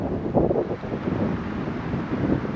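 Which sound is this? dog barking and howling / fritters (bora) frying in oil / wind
wind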